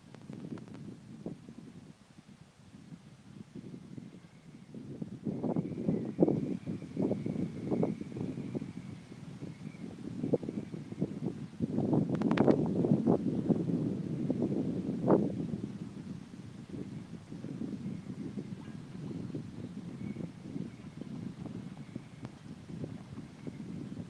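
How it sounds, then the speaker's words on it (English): Wind buffeting the microphone outdoors by the water while fishing, in low, uneven rumbling gusts that rise and fall, close and muffled, with no one talking. "It's pretty windy out here, so I'm not sure what's going on with the sound."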